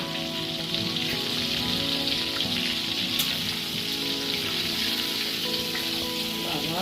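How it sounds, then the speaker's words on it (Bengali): Salted prawns frying in a pan give off a steady, close sizzle that holds at an even level throughout, with faint clinks and stirring noises and no talking. "এই চিংড়ি মাছগুলোকে কেটে ধুয়ে এখন নুন মাখি এখন ভাজা হচ্ছে"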